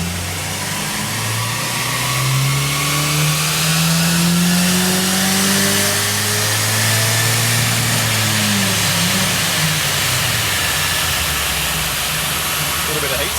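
A car engine is held at wide open throttle during a dyno power run with logging on, a loud close drone that climbs steadily in pitch for most of the run before dropping away near the end.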